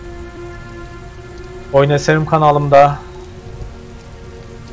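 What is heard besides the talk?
heavy rain in the video game Heavy Rain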